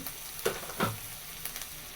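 Red chili powder and turmeric dropped into hot oil, giving a soft steady sizzle with a few faint stirring clinks, quiet and close with no talking.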